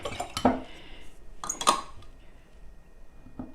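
A spoon stirs whole milk mixed with white vinegar in a cup, giving two distinct clinks against the sides with quiet swirling between them, close and alone.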